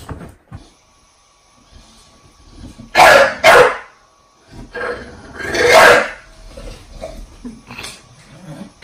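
An English bulldog barks loudly twice at close range, each a rough burst, with quieter snuffling and shuffling between them.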